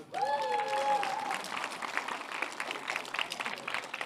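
An audience breaks into applause, a dense wash of many hands clapping that swells and continues steadily, with a voice speaking briefly over its start.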